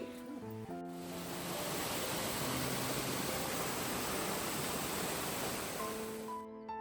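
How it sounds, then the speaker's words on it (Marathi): Steady rushing of a small rainforest waterfall in Puerto Rico, a dense continuous roar of falling water filling the whole clip at close range. "मला जो मगाशी आवाज येत होता वॉटरफॉलचा तर तो छोटासा इथे वॉटरफॉल आहे"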